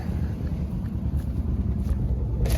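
A 1979 Ford F-150 SuperCab engine idling with a bad carburetor power valve, a low rumbling run that is steady and moderately loud, with some wind noise.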